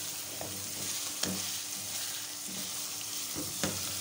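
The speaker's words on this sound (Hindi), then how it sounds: "लहसुन अदरक भी इसमें अच्छे से फ्राई हो चुका है।" Soft, steady sizzle of garlic and ginger frying in a pan, with a few light scraping stirs from a spoon now and then; quiet and close.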